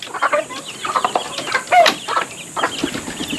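Close clucking from a hen with a single chick, a string of short throaty calls with a brief wing flutter partway through, no speech over it.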